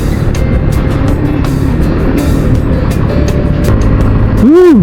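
Road traffic drones loudly and close by on a road used by motorcycles near New Clark City, Tarlac, with a steady engine rumble, wind buffeting and a vehicle sweeping past at the end.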